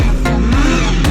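BMW drifting on a race track: a loud, steady engine roar with rising pitch sweeps as the car revs and slides, close and continuous throughout.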